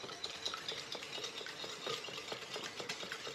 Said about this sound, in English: you're gonna want to use a whisk like this and just whisk this